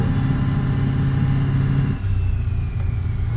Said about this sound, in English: The engine is too loud, bro.